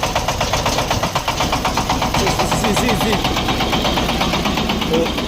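A Shifeng 350L small tractor's single-cylinder engine idles steadily nearby with a fast, even chugging knock, while a person talks over it.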